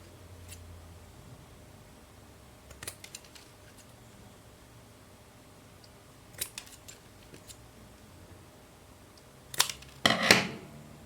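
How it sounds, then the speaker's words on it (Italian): Quiet room tone broken by a few brief scissor snips cutting the corner of a crocheted bag, ending with a couple of sharper, louder cuts close by. "prendete le forbici e tagliate l'angolo in questo modo"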